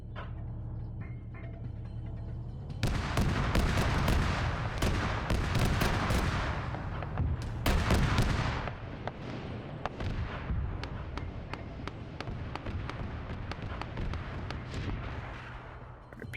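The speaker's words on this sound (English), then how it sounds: "putting mortars over there" Mortar fire in a military video game booms out in a dense, rapid volley of loud, close blasts, then continues as scattered, fainter thuds over a steady background rumble.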